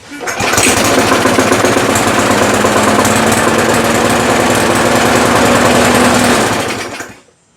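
A small lawnmower engine catches after a faulty-ignition fix and runs loudly at a steady, rattling idle for several seconds, then cuts off.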